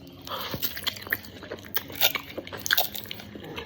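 Close, wet crunching bites and chewing of a Melbourne kebab-shop HSP with shaved meat, cheese and chips, a run of irregular crisp bites and squishy mouth sounds with no talking.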